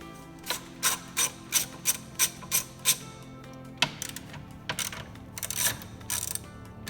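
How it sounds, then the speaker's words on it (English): A 13mm socket ratchet backing bolts out of a carbon fiber strut brace on a BMW M3/M4, a quick series of crisp metallic clicking bursts close by, then scattered clinks and rattles of loose hardware. "grab your 13mm socket and remove the 8 13mm bolts that hold down the carbon fiber brace"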